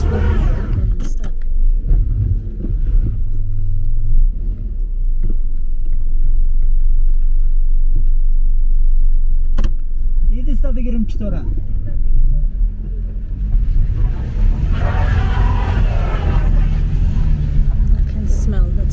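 A car engine revs and strains while a wheel sits stuck in a road hole, making a loud, close low rumble that persists throughout, with voices talking over it.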